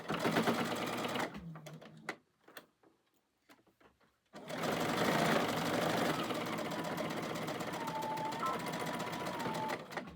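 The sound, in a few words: sewing machine top stitching a bowl coozie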